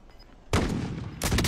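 A sniper rifle shot booms in a video game, a sudden loud blast followed by a second sharp report about a second later.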